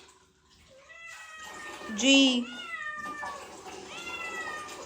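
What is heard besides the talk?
cat meowing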